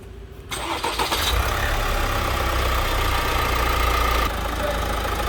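An Opel Insignia Grand Sport with a 1.6 CDTI 136 hp diesel, facing a timing chain replacement, cranks briefly, catches and settles into a steady, loud, gravelly idle close by, with no talking.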